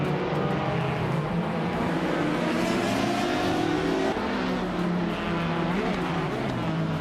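Race cars in a racing video game, including a 1996 Ozella P, with a continuous loud engine drone rising and shifting in pitch as several cars run together, no talk.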